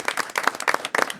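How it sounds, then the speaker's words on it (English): A small group claps at a county board of commissioners meeting, a sparse, uneven patter of individual hands that is close and moderately loud, with no talking over it. "we'd just like to applaud him for taking the initiative to receive"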